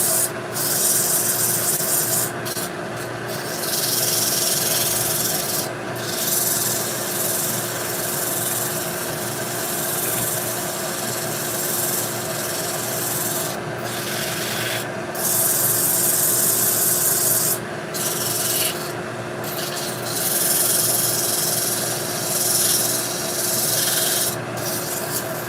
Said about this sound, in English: Sand down here so that the dust extractor can take it away